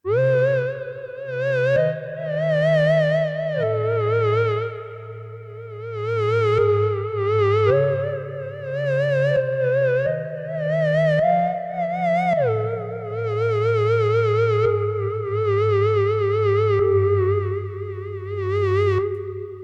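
A Roland GAIA synthesizer patch imitating a theremin: a wavering, sliding tone with heavy vibrato glides between pitches over a droning low bass and echoey effects.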